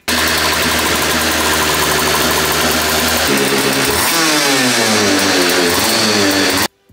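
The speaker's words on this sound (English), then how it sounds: "So here it is, 125cc, 2-stroke engine, 6 gears. Sounds absolutely amazing." A 125cc two-stroke, six-gear engine fitted to a toy tractor build runs loud and close, holding a buzzing idle before revving up and down in rising and falling sweeps, then cutting off abruptly at the end.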